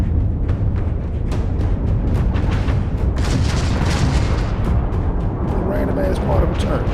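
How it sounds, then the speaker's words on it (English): Spaceship weapons fire in the space combat game Starfield arrives as a dense, continuous barrage of booming shots and bursts. The volley is loud and sustained throughout, with a voice talking underneath. "They're still shooting at me."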